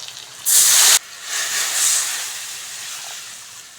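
Water poured onto hot spices with fried potatoes in a pan for Bengali fish curry bursts into a loud, sharp hiss for half a second, then settles into a softer, fading sizzle.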